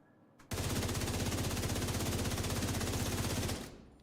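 Rapid automatic gunfire from a no-recoil rifle in The Division 2, a loud steady burst of evenly spaced shots lasting about three seconds before cutting off, with no talk.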